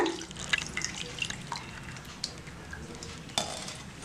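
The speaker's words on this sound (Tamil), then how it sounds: "இப்போ அதை நல்லா வடிகட்டிடுவோம்" Dissolved tamarind water for rasam is poured through a strainer, giving soft, close trickling and scattered drips, faint and intermittent, with no talking.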